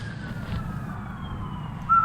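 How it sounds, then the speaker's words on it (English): Police car siren on a wet hunting outing, a thin rising-and-falling wail sweeping past at moderate distance over steady low outdoor rumble, swelling louder and higher toward the end. "No, that's a siren."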